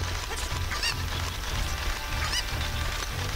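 Chicken clucking in Zelda Ocarina of Time, a few short squawks and honk-like calls over a steady game background, moderately loud and alone.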